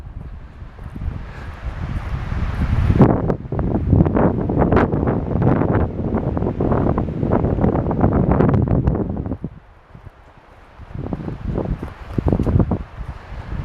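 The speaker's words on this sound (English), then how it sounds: "Wind's starting to pick up." Wind sweeps across open high-country land near a cliff face, roaring and buffeting the microphone in loud uneven gusts with a brief lull before picking up again.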